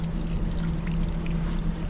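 Trapped water pours steadily out from underneath a house with a concrete slab and no basement, a constant rushing trickle heard close up with a low steady hum beneath it.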